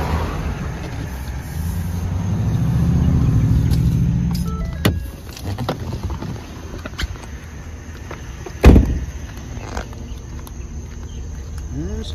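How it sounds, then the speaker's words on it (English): A car rolls slowly into a residential driveway, its steady engine and tyre rumble swelling, then fading as it stops, followed by a sharp door-like thud and quiet idle, with crickets faint in the background. "I'm just gonna pull into this guy's driveway."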